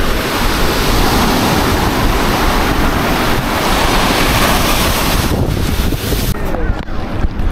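Ocean surf rolling steadily onto a beach as the tide comes in, a continuous loud wash of breaking waves with wind buffeting the microphone throughout, easing slightly near the end.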